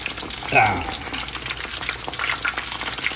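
Pork katsu deep-frying in oil, a dense crackling bubble that carries steadily throughout at close range, with a brief clink near the start, no talking.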